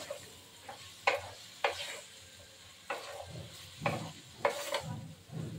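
Beet and carrot vegetable curry being sautéed in a pan, with a soft sizzle under a series of irregular scraping stirs, about six strokes spread across the stretch, close and moderately quiet.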